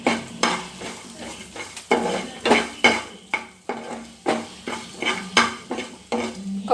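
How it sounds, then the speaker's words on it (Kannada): Ginger and onion stirred in a pan of hot coconut oil, with repeated scraping and clinking strokes of a spoon against the pan in a steady rhythm over a soft background sizzle, close and fairly loud. "ನೆಕ್ಸ್ಟ್ 1 ಇಂಚಿನಷ್ಟು ಶುಂಠಿ, ಆಮೇಲೆ ಒಂದು 1/2 ನೀರುಳ್ಳಿ, ಇದನ್ನೆಲ್ಲ ಹಾಕಿ ಫ್ರೈ ಮಾಡಿ."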